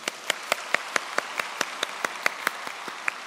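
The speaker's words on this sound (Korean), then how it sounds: "하나님께 영광의 박수를 보내도록 하겠습니다" A congregation in a church applauds after a choir and orchestra finish a hymn: a dozen sharp, evenly spaced claps ring out alone, fairly close and loud.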